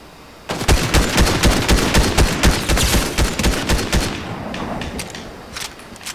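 Loud, close automatic fire from a gun in Fortnite, a rapid run of shots lasting about three and a half seconds, then a few scattered shots fading out.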